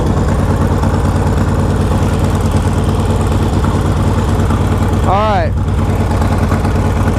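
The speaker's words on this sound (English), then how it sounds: "these custom build bikes run and fire up pretty easily" A 2007 custom bobber motorcycle idles with a steady, close, loud engine rumble throughout, and a brief voice speaks over it near the end.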